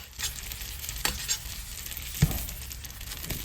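Chicken breast fries in butter in a stainless steel pan, giving a soft, steady sizzle with a few clinks and scrapes as it is basted with a spoon.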